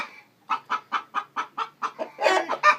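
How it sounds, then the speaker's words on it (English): A hen in a nesting box clucks while laying an egg, a close, regular run of about a dozen short, loud clucks that swell into a busier cackle at the end. "There's a chicken laying an egg. There is a chicken over here in the nesting box."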